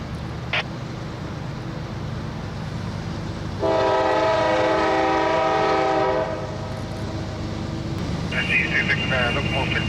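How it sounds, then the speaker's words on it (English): A real train rolls past with a loud, sustained horn blast of about two and a half seconds midway, over steady rumbling rail noise, and a second tonal signal sounds near the end. "you guys are about to see some real trains"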